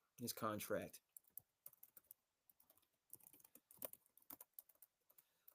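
A computer keyboard is tapped in scattered, quiet bursts of clicks after a short spoken phrase at the start, the keystrokes irregular and fairly close.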